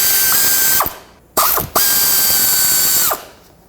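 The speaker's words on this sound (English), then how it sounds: "With a 10mm socket, unbolt these." Ratchet on a 10mm socket unbolting oil cooler lines on a 2003-2021 Chevrolet Express van, heard as two loud, close whirring runs that wind down, with a brief clatter between them.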